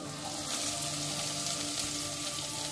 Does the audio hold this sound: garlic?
yes